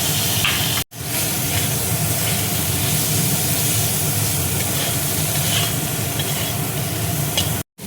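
Peas and turmeric hit a hot pan for spring onion paneer rice, giving a loud, continuous sizzling hiss with stirring that runs almost unbroken after a brief drop near the start.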